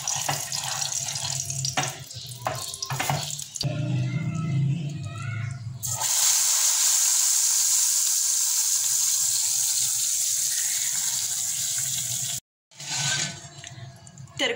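Punjabi kadhi masala with cumin and red chilies cooks in a pan, giving some clattering and stirring before a loud, steady hissing sizzle that runs for several seconds, breaks off briefly, then resumes.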